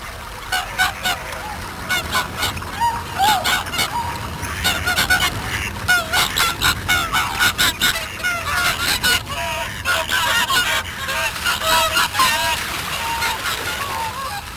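Wild geese honking at Welney wetland reserve in winter: a dense, continuous chorus of many overlapping honks from a large flock, loud and close, with no talk.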